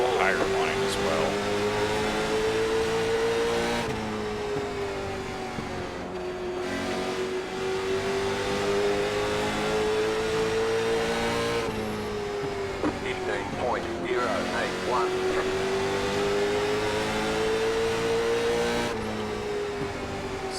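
Race car engines on the Oxford Plains oval in iRacing, a loud continuous engine note that climbs and drops in pitch with each lap section, with a driver talking over it.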